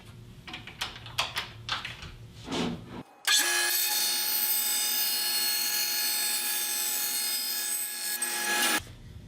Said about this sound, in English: I'm cutting off a piece of scrap here once again